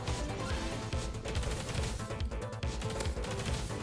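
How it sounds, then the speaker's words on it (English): Rapid gunfire in the Roblox game Rivals rattles in dense bursts, fairly quiet overall but continuous, with overlapping shots and clatter and no talking. "I'm literally shooting at Legend City."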